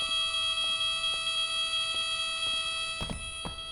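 Steady electronic fire alarm from the horror game White Day, a loud continuous multi-tone buzz holding throughout, with a few soft thumps and a burst of noise near the end.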